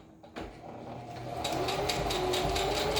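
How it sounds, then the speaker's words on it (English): A sewing machine runs a zigzag reinforcing stitch on a homemade fabric mask, starting with a click and then whirring steadily with a fast, even mechanical rhythm that grows slightly louder, close by. "So I'm going to put this zigzag stitch in here as a reinforcing stitch."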